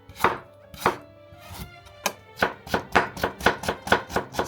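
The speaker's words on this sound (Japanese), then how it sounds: "薄くスライスしてから千切りにします。" A knife cuts thin ginger slices into fine julienne strips on a cutting board, sharp close knocks that start sparse and settle into a fast, even rhythm, with no talking.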